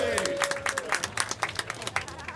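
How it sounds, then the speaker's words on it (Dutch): Scattered clapping from a parade crowd greets the second-place finisher at a Kessel-Eik carnival procession, with a voice speaking over the uneven, moderately distant applause. "Applaus voor Paul."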